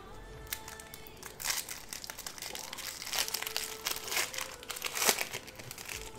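Foil wrapper of a 2022 Upper Deck Marvel Allure trading card pack crinkling and tearing open, close and crisp, with repeated crackling bursts throughout.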